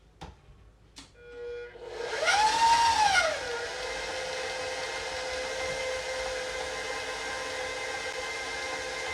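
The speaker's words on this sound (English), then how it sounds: "So I'm gonna set my blender on medium speed, and this is gonna go for 30 minutes." A blender runs at medium speed mixing vegan cig kofte, a rising whine that settles into a steady, moderately loud hum with no talk.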